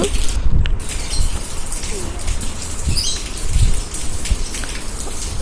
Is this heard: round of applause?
no